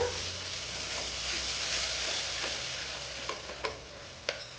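Tomato and garlic sauté in a pan for turkey berry dal, with a steady close sizzle and a few sharp clicks of stirring near the end.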